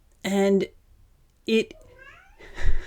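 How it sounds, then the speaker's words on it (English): A house cat meows outside a door: two loud, separate meows about a second apart, followed by a brief voice starting to speak. "That was just my cat meowing a lot outside the door"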